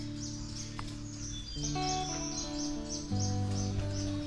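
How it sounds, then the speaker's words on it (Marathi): Morning birds chirp in short repeated calls against a steady background hum, fairly quiet and a little distant. "पक्ष्यांचा आवाज येतो"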